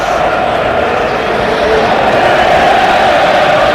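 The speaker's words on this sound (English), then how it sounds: "you can hear the Stockport supporters now as Chris Hussey takes the applause" Stockport County supporters applauding and cheering at a football match away at Carlisle, a broad distant crowd roar with faint clapping, steady and unbroken.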